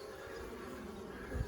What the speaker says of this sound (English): There's a lot of bees in there working away in the original hive.